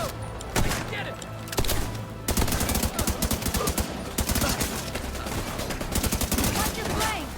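Heavy, sustained gunfire fills a Tom Clancy's The Division 2 firefight, with rapid automatic volleys and sharp single shots close by, and shouted voices break in over the shooting.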